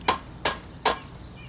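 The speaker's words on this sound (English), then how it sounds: "Use the wooden part of the hammer." Three evenly spaced sharp taps from the wooden part of a hammer striking concrete sidewalk forms, each knock crisp and close, with faint background noise between them.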